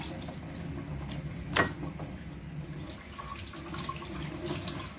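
Kitchen tap water running steadily at moderate level through the whole stretch, with a brief louder splash or knock near the start, recorded indoors while cooking fried chicken.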